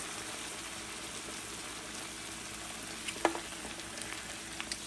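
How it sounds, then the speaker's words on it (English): Steady, moderate sizzle of Guinness stout hitting a hot pan to deglaze it for Irish stew, with a brief sharper scrape or clink near the end and no talking. "we're gonna use the Guinness to deglaze the pan"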